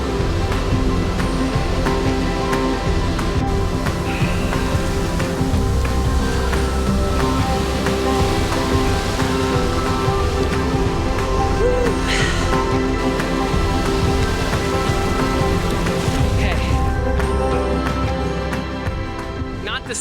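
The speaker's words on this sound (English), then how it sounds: "It's still the ocean, and it's still very peaceful and calming, and I love it." Pacific Ocean waves wash steadily against a West Coast shore, making a continuous loud surf roar that fills the whole stretch.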